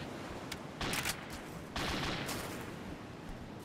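Gunfire in the military shooter ArmA 2 with the ACE mod: a few quick bursts and single sharp shots, fairly faint and distant, with no talk over them.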